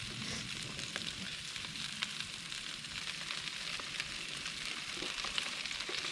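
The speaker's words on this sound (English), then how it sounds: "Let that butter melt inside of there." Butter melts and sizzles in a pan with trout frying, a steady close hiss with small crackling pops throughout and no talking.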